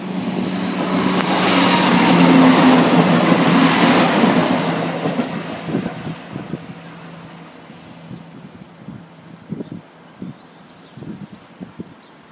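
An East Midlands HST high speed train roars loudly past Meadow Lane level crossing in Derbyshire, a swelling rush with a high engine whine that peaks early, then fades into rumbling and clattering of wheels as it recedes.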